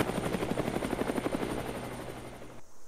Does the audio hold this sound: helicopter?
yes